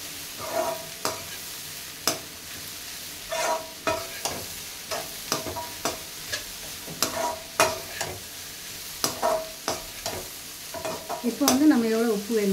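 A spoon scrapes and taps in a pan of chicken 65 masala mixture, sautéing it with steady, repeated stirs over a soft sizzle. The scraping is close and irregular, and the frying grows louder near the end.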